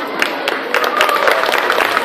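Audience applause following a dance performance at a Kidzania talent competition, a dense burst of many hands clapping briskly and loudly throughout, with voices mixed in.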